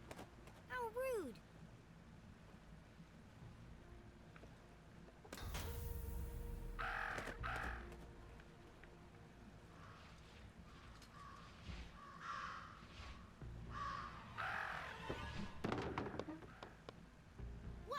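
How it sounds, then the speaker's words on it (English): Crows caw and squabble in the video game Jenny LeClue, harsh calls and thumping impacts scattered over a quiet background, with a character's voice talking over parts of it. "Talk about a murder of crows."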